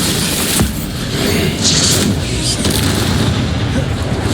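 A Bombarda spell explodes in Hogwarts Legacy, a loud low boom amid dense game combat noise, with sharp bursts and rumbling impacts layered throughout.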